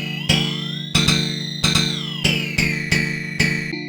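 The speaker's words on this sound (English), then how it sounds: "Ring mod again." Korg Electribe EMX-1 groovebox running a synth pattern through its ring modulator effect, producing metallic, clangorous repeated notes with shifting inharmonic overtones over a steady bass drone, about seven evenly spaced hits, loud and close with no voices.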